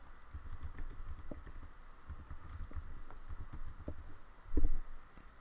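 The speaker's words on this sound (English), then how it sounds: "you're going to type in your website" Someone types a website address on a computer keyboard with soft, irregular keystrokes close by, and one louder thump near the end.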